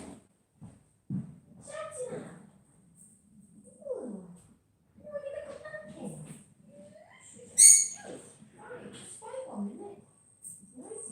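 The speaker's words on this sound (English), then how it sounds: "Birds." Caged pet birds chirp and call in short, scattered bursts, with one sharp loud squawk, mixed in with frequent indoor conversation nearby.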